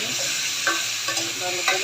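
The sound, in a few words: radish with gram flour and salt frying in pan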